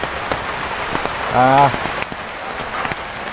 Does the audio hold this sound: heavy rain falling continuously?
yes